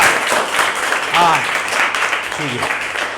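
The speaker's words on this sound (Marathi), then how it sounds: "भरभरून जोरात टाळ्या वाजवा" Schoolchildren in a classroom clap loudly in a continuous burst of applause while voices speak over it.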